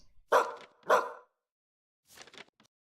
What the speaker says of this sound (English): A dog? It's so cute, isn't it?